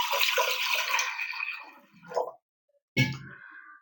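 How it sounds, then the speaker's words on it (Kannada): Water is poured into a pressure cooker in a home kitchen while making ginna: a steady, close splashing pour that tapers off, a short pause, then a sharp metallic knock and brief rattle. "ಒಂದು ಕುಕ್ಕರಿಗೆ ಸ್ವಲ್ಪ ನೀರು ಹಾಕ್ತಾ ಇದ್ದೀನಿ"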